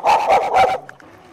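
Several dogs bark and yip at a dog park, loud and close in a quick burst of three or four barks, followed by a couple of faint distant yips.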